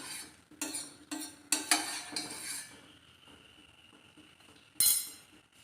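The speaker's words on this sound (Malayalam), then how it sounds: "നമ്മുടെ പാല് നല്ലപോലെ നമുക്കിങ്ങനെ ഇളക്കി നല്ലപോലെ ഒന്ന് തിളപ്പിച്ചെടുക്കണേ." A spoon stirs half a litre of milk heating in a pot, giving a few sharp metallic clinks and scrapes against the pot in the first seconds, then a quiet hiss, with one more loud clink near the end.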